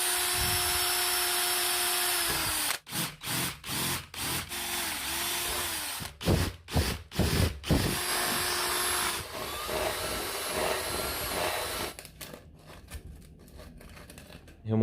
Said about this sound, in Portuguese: Uma marcação inicial para guiar a broca, furo inicial